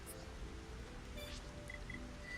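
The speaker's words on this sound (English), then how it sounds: "Oh, now it's raining." Rain falls in the Xenoblade Chronicles video game as a faint, steady hiss, with a few soft tonal game sounds drifting over it.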